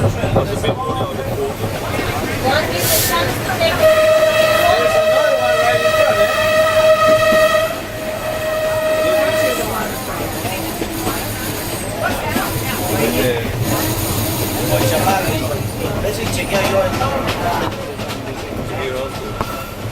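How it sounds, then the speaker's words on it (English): A train at Machu Picchu, Peru, rumbles past with a long, steady horn blast in the middle, rattling wheels continuing afterward, and voices faintly audible in the background. "The train in Machu Picchu."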